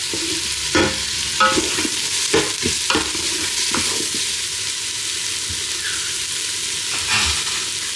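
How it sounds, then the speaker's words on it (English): Onion sautéing in olive oil inside a Ninja Foodi pot, a steady close sizzle punctuated by scraping, clacking strokes of a spoon stirring every second or so. "We have the sizzle, so just keep stirring."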